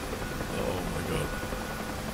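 A helicopter engine in the flight game DCS World, a steady whining, rumbling drone with a faint rotor throb, holding an even level throughout with no talk.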